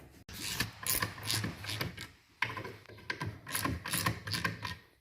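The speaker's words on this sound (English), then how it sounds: "So you just slowly tighten those up until it pulls the pump housing right off." A wrench is turned in short bursts on the bolts of a puller that draws a Sea-Doo SPX jet ski pump housing off, giving close ratcheting clicks and metallic creaks in uneven bursts with brief pauses.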